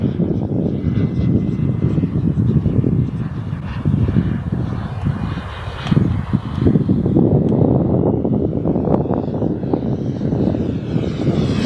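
A Boomerang Lancer RC jet at takeoff with flaps set, its engine roaring steadily and loud close to the microphone, with wind buffeting mixed in throughout.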